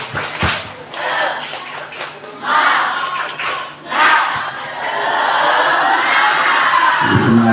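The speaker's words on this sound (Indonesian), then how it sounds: "Tepuk semangat." Students at a Ramadan school session join in a rhythmic spirit clap chant, bursts of group clapping and shouted voices that swell into a loud sustained crowd cheer, with a few thuds.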